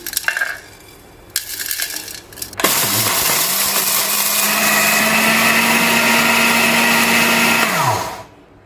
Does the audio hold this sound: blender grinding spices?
yes